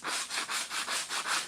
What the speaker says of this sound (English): Kind of nice with these sanding blocks that have a little bit of flex on these curvy shapes